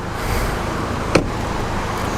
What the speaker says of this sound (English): Both cars running, both cars pretty quiet for the most part.